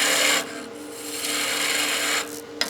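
Skew chisel taking a peeling cut into spinning wood on a lathe, a close, bright scraping hiss that breaks off briefly, resumes steadily, then stops with a small knock at the end.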